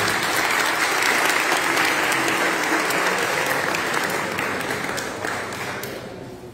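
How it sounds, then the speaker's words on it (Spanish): Steady applause from a crowd fills the space, loud and continuous, then gradually tapers off toward the end. "Un aplauso para Juan José Blanco Ramírez."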